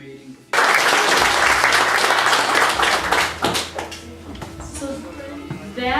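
An audience at a school launch party breaks into loud, sustained applause that starts abruptly and gradually thins out over several seconds, with a few voices mixed in.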